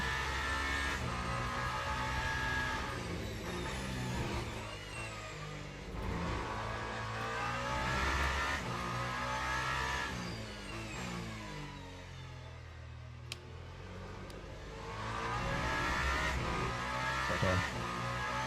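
Race car engine in Le Mans Ultimate at Imola, revving up and down through gears under throttle, a steady close engine drone with rising and falling pitch sweeps.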